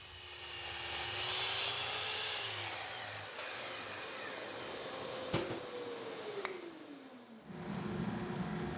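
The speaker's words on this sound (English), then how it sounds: "set up a stop block at the miter saw and cut them" Miter saw cutting wooden cross brace boards to length against a stop block, a motor whine winding up and spinning down with rasping cuts through the wood, fairly quiet and close with no talk.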